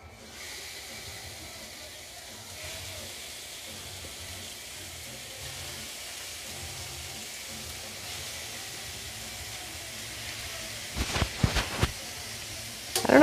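Meat sizzling in a hot pan during meal prep, a steady soft hiss running throughout with a few sharper crackling bursts near the end, fairly quiet and with no talking.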